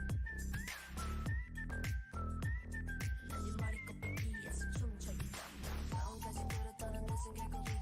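A bright whistled melody riding over a steady electronic pop beat in a K-pop track, the whistle sitting high and clear above the thumping rhythm.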